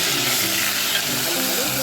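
Oregano frying in hot oil sizzles loudly and steadily while being stirred, a dense close hiss with faint scraping underneath, continuing unbroken from start to end.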